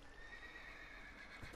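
A horse in the Minecraft video game whinnying with clip-clopping hooves, a faint, brief in-game sound over a steady background hum.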